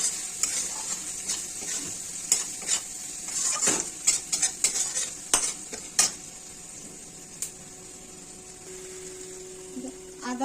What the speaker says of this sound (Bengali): সুন্দর করে পেঁয়াজগুলো লাল লাল করে নরম করে ভেজে নেব।